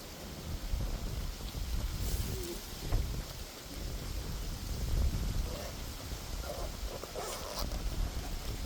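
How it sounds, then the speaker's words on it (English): Strong gusty wind buffeting the microphone, a continuous low roar with bursts throughout, no talking. "it is super windy"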